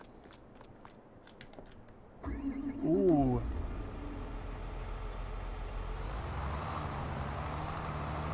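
A tractor in Farming Simulator 22 starts with a loud, close cranking rise, then settles into a steady, droning engine rumble that holds to the end. Footsteps come before it, and a brief voice exclaims.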